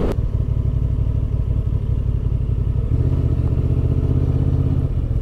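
A 2023 Honda XL750 Transalp motorcycle engine runs steadily and close by, a dense low mechanical drone that shifts to a slightly higher, firmer note partway through, with no talking.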